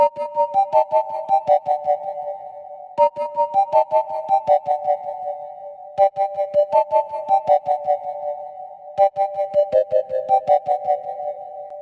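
Synth lead processed with delay, hall reverb and a bitcrusher, playing a repeating melodic phrase in four even cycles, each opening with sharp plucky attacks that trail into washy echoes, steady and clear with no voices.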